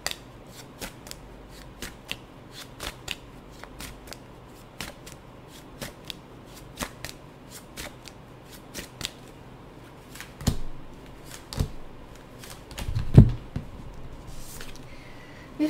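Tarot cards are shuffled by hand in quick papery riffles and flicks, a series of crisp close snaps spaced irregularly over a quiet background.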